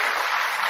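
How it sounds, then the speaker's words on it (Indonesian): Church congregation applauding during a worship service, a dense steady burst of many hands clapping together, brief and close. "Tepuk tangan buat Tuhan"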